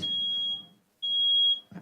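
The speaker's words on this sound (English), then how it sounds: "we'll just let the fire alarm pass for a second" Smoke alarm sounding indoors during a trade pavilion presentation: two long, piercing electronic beeps with a short gap between them, loud and steady, with a brief murmur of voices at the end.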